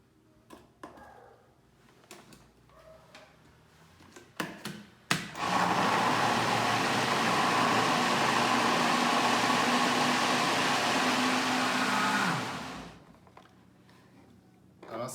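A kitchen blender whirs continuously for about seven seconds while mixing carrot cake batter, starting abruptly after a few clicks and knocks and then winding down, loud and steady in a nearby room.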